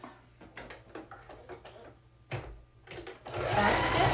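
A home sewing machine on a straight stitch runs in short, close bursts along a face mask strap, the whirring motor starting and stopping several times before a longer, louder stretch of stitching at the end.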